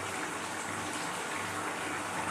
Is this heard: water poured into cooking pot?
yes